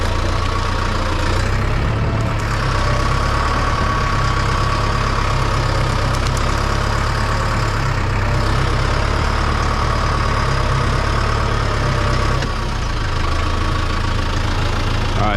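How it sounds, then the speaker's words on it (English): A large tractor's diesel engine idles close by on a farm, a steady low rumble with a faint knocking rhythm that runs without a break. "I want to make sure nothing's gonna hit the tractor when I'm driving this onto the trailer"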